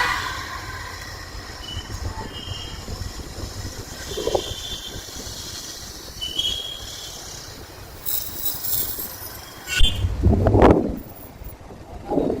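A train runs past Bengaluru Cantonment railway station with a continuous low rumble of wheels on the rails and a louder swell near the end as it goes by.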